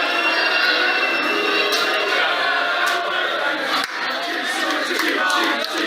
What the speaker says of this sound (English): There's the booing